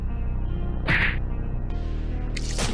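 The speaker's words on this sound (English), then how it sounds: "Double slap. Slapped him to death." A double slap lands in the horror puzzle game Slayaway Camp, sharp cartoonish whack sounds with a brief squeal, layered over steady droning game music.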